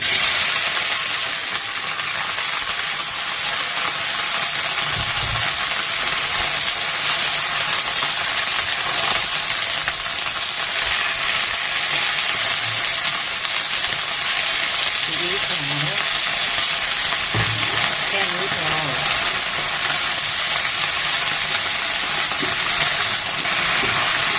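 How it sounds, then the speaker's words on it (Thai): Tofu stir-fried with okra, green onions and other vegetables in hot oil, a steady loud sizzle with scraping and stirring clinks throughout, no talking. "ผัดน้ำมันร้อนๆ"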